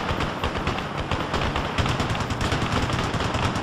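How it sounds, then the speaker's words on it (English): Dense, continuous heavy gunfire fills an aerial dogfight in Ace Combat: Assault Horizon, a loud unbroken roar of rapid shots with low rumbling bursts and no talking. "Heavy fire coming back at us."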